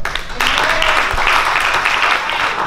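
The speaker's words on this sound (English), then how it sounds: "Give a round of applause to Elder Lockhart." Loud applause for a church elder at a praise celebration, dense clapping from a congregation close by with voices mixed in.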